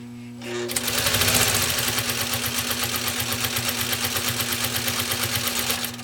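A 1956 Singer 301A sewing machine spins up and stitches steadily through thick material, a fast, even mechanical chatter with a low motor hum, close and loud after a brief quiet start.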